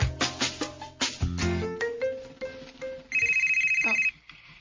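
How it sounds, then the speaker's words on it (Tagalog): A cellphone ringtone plays a bright, melodic electronic tune of rising and falling notes, then a sustained repeating tone, loud and close with no talking over it. "may bagting maning akong cellphone"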